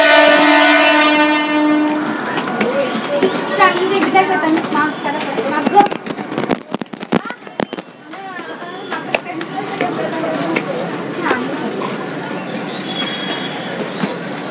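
A train passes Kulgachia railway station below a footbridge, a horn blaring at the start, then loud rattling, clattering wheels and squeals; people talk over the noise.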